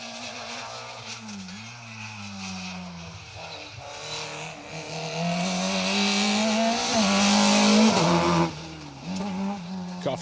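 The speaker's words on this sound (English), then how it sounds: "Car 42 then, Peter O'Neill in the Vauxhall Nova, having a good run." A Vauxhall Nova rally car on an asphalt stage: a revving engine rises in pitch, sustains at high load and then drops sharply as the car passes, loud and fairly close.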